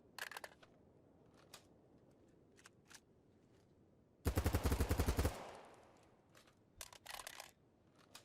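An AK-74 fires in the video game BattleBit Remastered: scattered single shots and short bursts, then one loud sustained full-auto burst of about a second, followed by more brief volleys.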